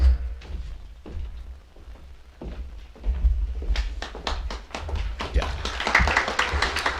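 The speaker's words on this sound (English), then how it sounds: "You may not be so excited to clap when we're all done here." An audience at the 3 Rivers Telephone Cooperative 2016 annual meeting starts with scattered taps and thuds. It then swells into dense, steady clapping filling the room in the second half.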